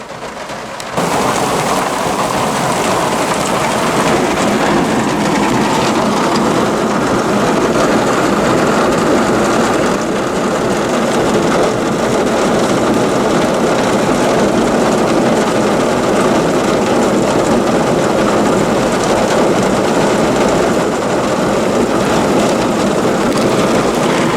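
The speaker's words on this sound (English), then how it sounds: "it's raining" Heavy rain pours continuously, a loud, dense hiss of water hitting surfaces, with low rumbles suggesting thunder in the background.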